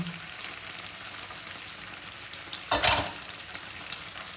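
A low sizzle of potatoes frying runs throughout, with a single louder scraping stir of the potatoes in the pan near the end.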